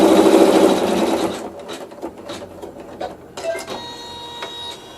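A sewing machine stitches down a fabric tuck in a quick whirring run that stops after about a second and a half, followed by scattered clicks and light handling of the cloth.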